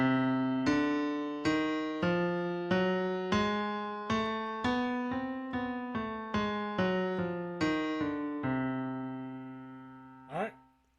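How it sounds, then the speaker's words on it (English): Whole-half diminished scale played as a steady sequence of roughly fourteen single sustained notes, evenly struck and decaying, climbing and returning, ending on a held note followed by a brief soft knock. "if I start with the whole step first, I get a scale that sounds like this"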